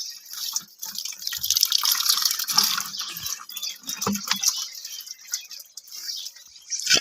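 Thin stream of water running from a tap outdoors, a steady splashing trickle with scattered drips and knocks, fairly close.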